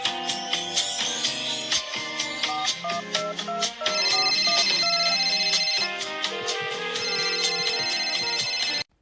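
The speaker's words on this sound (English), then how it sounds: "All right, let's give him a call, put it on speaker." A melodic phone ringtone plays loud and steady over a speakerphone during an outgoing call, with repeating tonal phrases running continuously for about nine seconds and no talking.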